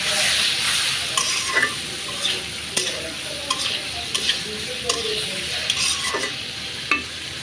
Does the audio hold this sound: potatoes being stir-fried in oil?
yes